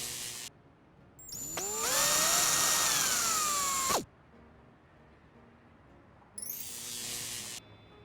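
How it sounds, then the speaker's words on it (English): A power drill bores through a magnet in a video game: the motor winds up with a rising whine, holds a loud steady tone, then cuts off sharply, followed by a quiet pause and a second brief burst. "Now, can we drill it? Yes. I perforated the magnet exactly in the center."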